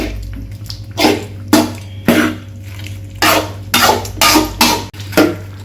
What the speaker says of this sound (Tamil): சிக்கனில் பார்த்தீங்கன்னா நல்லா மசால் பிடிக்கிற மாதிரி நல்லா கிளறி விட்டுக்கோணுங்க